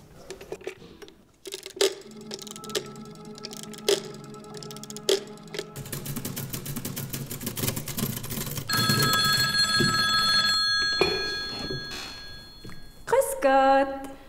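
A telephone rings while a call is being placed, its bell and ringtone-like tones sounding in short bursts against faint background noise and brief voices.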